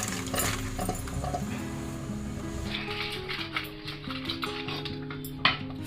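Cooked crab being stirred into a tomato masala in a pan, with steady scraping and clinking of a spoon against the metal over a soft sizzle, fairly close and without talk.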